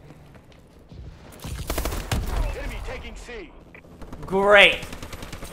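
Gunfire in a video game, with a few sharp shots mixed into game effects and a rising whistling tone near the end, and a player talks over it.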